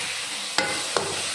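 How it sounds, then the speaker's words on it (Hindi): Carrots stir-fried in a pan for gajar ka halwa, with two distinct spoon scrapes cutting through a steady soft sizzle, close and without talk. "अब आप इसे 15 से 20 मिनट तक अच्छी तरह भुनेंगे।"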